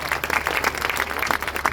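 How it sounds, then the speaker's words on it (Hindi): Audience applause for children at a gurukul event showing blindfolded reading, dense steady clapping filling the short moment without pause. "तो इन बच्चों के लिए एक बार और ताली बजाओ।"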